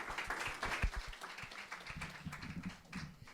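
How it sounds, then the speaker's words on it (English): A lecture audience at the Harvard Innovation Lab's NextRise 2019 event applauds after an expert talk: dense, steady clapping from many hands fills the whole stretch at a moderate, somewhat distant level, with no talking over it. "please give a big round of applause"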